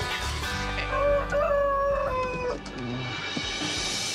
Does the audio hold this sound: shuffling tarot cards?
no